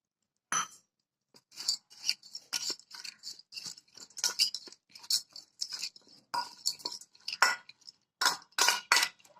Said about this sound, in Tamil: அதே டம்ளரில் ஒரு அரை டம்ளர் பால் சேர்த்து இது நல்லா கிளறி விட்டுடலாம்